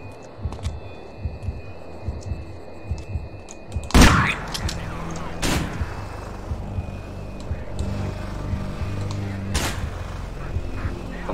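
Sniper gunfire during a Manhunt border patrol level: a sharp, loud shot near four seconds, followed by two fainter reports amid low rumbling ambience.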